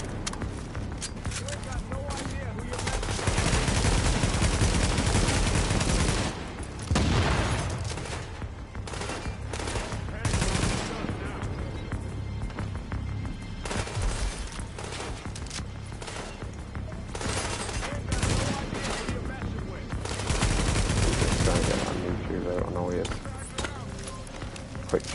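Gunfire in the PS5 video game The Division, with rapid bursts of automatic weapon fire and scattered shots repeating over about twenty-five seconds while a player talks over the action.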